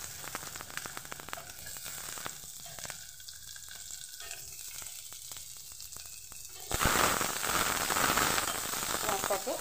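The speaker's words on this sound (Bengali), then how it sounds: "পেঁয়াজটাকে একটু ভেজে নেব।" Chopped onion with dried and green chillies frying in hot mustard oil for chana chaat: steady close sizzle with scattered crackles and stirring, swelling louder and hissier toward the end.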